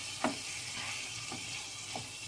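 Stuffed bitter gourd mixture with green chillies is stirred in a frying pan over high heat: a steady sizzle throughout, broken by three scraping spoon strokes against the pan, close and fairly quiet.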